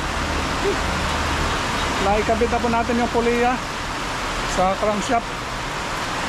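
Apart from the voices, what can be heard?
rain falling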